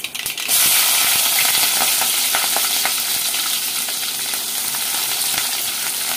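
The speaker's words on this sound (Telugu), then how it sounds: "పచ్చిమిర్చి ఉల్లిపాయలు కూడా వేసేసుకొని చక్కగా వేపుకుందాము" Green chillies and onions sizzle and fry in hot oil with mustard seeds, cumin and fenugreek, a loud continuous crackle with stirring scrapes throughout, no voices.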